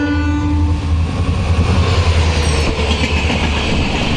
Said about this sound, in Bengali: এটা একটা প্যাসেঞ্জার ট্রেন